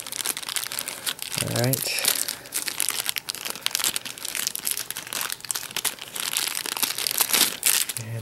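A Motorola Droid Razr M phone is pulled from its plastic packaging with close, continuous crinkling and rustling, and a person talks briefly over it.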